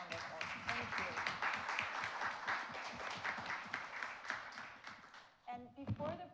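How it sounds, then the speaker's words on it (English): An audience applauds presenters at an evening art program, a steady wash of clapping that is moderately loud and continuous, then fades out near the end as a voice begins to speak. "offering another round of applause to thank each of you for your extraordinary presentations"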